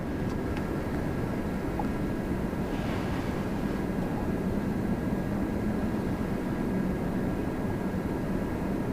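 Air Canada Boeing 787-9 Dreamliner at Toronto Pearson, a continuous low jet engine rumble with a faint whine, steady and moderately near, with a brief higher hiss partway through and no talk.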